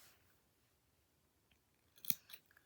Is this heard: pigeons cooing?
no